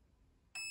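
A Perun ETU electronic trigger unit for an airsoft gun gives a single short, high electronic beep, close and clean after a brief quiet moment.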